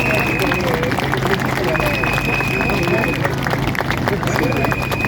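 A crowd at a free-speech demonstration in France greets a lawyer with loud, sustained clapping and cheering, a dense close wash of hands over steady outdoor hubbub, with a few faint whistles riding on top.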